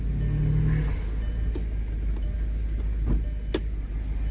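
A Porsche bought at a local auto auction idles in neutral with a steady, low engine rumble, while a few faint clicks and taps sound over it.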